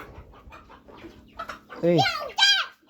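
Farm chickens cluck and a rooster-like fowl calls in two loud, close bursts near the end, after quieter rustling and faint background chatter.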